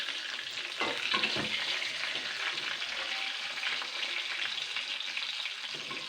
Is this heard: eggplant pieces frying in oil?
yes